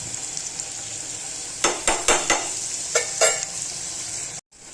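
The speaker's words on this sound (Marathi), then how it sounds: "ही लसूण मिरचीचा ठेचा तेलामध्ये टाकायचा" Garlic and green chilli thecha sizzles in hot oil, a constant hiss punctuated by several sharp metallic clinks and scrapes of a spoon against the pan, ending in a sudden cut to silence.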